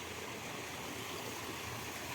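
Water from a well flows and rushes steadily at low volume, a constant close babbling stream with no other sounds.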